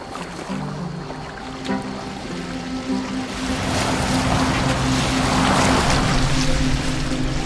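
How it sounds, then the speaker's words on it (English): A boat moves across open water in Assassin's Creed Valhalla, with a steady engine-like drone joined by swelling waves and wind that grow louder and rougher partway through. "Are you well enough to steer this boat?"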